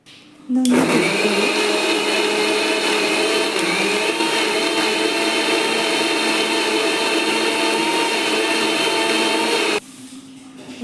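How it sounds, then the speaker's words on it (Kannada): A mixer grinder whirs loudly and steadily for several seconds grinding spice paste with a little water, starting abruptly and cutting off near the end, with no talking over it. "ಸ್ವಲ್ಪ ನೀರು ಆ್ಯಡ್ ಮಾಡಿಕೊಂಡು ಇವಾಗ ಗ್ರೈಂಡ್ ಮಾಡ್ಕೊಳ್ಳಿ"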